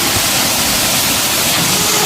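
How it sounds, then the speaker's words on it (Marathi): Heavy monsoon rain with strong wind roars as a dense, loud, unbroken wash of noise, with no distinct drops or voices. "मित्रांनो खतरनाक पाऊस आहे बघा"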